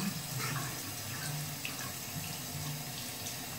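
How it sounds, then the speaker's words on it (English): A tap runs steadily while a badger-hair shaving brush is rinsed beneath it, a close, continuous splashing hiss of water with no pauses. "I'm gonna rinse this badger brush out real quick."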